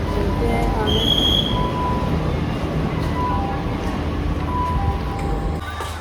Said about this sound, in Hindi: तो गाइस देख सकते हो हम लोग जा चुके हैं मेट्रो में।